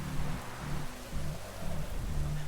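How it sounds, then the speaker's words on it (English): Steady rain in the Witcher 3 video game, a soft continuous hiss under a low droning tone that pulses at a slow, regular rhythm. "Looks like rain."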